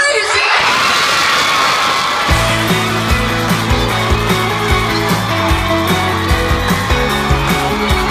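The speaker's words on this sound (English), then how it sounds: "this crowd is crazy!" A large festival crowd at a convention event in Manila cheers and shouts loudly, with music starting up under a sustained roar and whoops.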